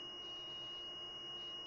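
A DT838 multimeter on continuity test emits a single steady high-pitched beep, faint and unbroken, while checking apartment wiring.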